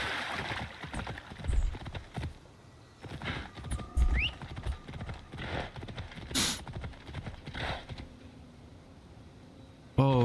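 Rhythmic hoof clip-clops from a galloping horse in Assassin's Creed Odyssey mixed with game sound effects and a brief whinny, moderately loud with no talking.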